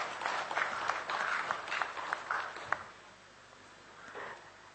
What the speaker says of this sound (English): we request you to keep the applause going as we welcome our eminent guests for the day